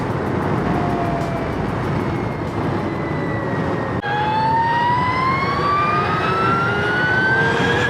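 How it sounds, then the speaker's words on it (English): The electric motor of an Energica Experia motorcycle gives a steady rising whine that climbs in pitch with speed over heavy wind roar while riding. "the whining noise from the engine on this is not invasive"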